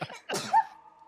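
A single quick, sharp sneeze bursts out close by, trailing off into a short tonal breath.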